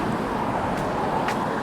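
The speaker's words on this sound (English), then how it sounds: "traffic noise on the bridge" Steady, continuous roar of vehicles driving over a bridge in Halifax before dawn, a dense unbroken road noise with no talk over it.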